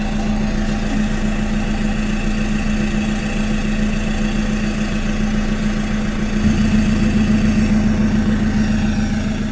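A 2016 Toyota Hilux 2.8 diesel pickup with a turbo wastegate adjustment and a 4-inch side exhaust idles steadily and loud, with a deep low rumble that thickens slightly near the end.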